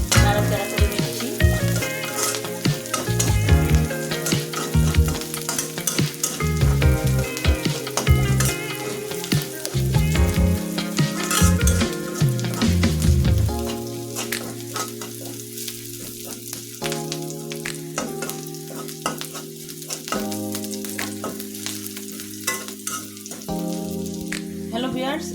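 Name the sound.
onions frying in mustard oil while being stirred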